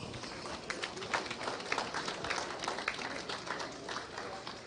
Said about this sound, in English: I'd like to have everybody please give these two exhibitors a round of applause